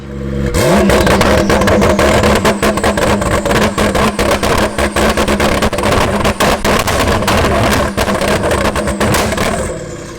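A 1014 bhp McLaren MP4-12C engine fires up and roars loudly, revving hard with a rapid, crackling pulse that stays close and intense throughout.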